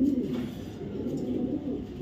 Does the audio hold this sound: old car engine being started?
no